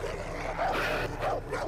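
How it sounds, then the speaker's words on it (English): Dogs barking in the Far Cry video game, a steady run of yips and barks at moderate loudness over a dense game soundscape, with no talk over them. "Dogs."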